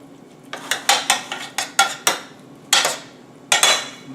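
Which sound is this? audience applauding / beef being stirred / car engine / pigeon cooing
beef being stirred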